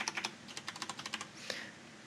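Keys on a computer keyboard are pressed in a quick burst of crisp clicks for a Photoshop shortcut, followed by one sharper tap, all close and fairly quiet over faint room hiss.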